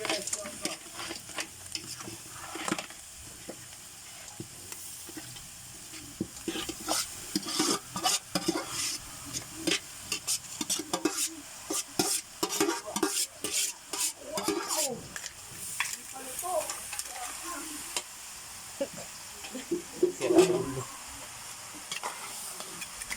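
Crabs cook in a pan with soy sauce and are stirred, a soft, continuous sizzle broken by repeated scraping and clinking of a utensil against the pan in irregular bursts.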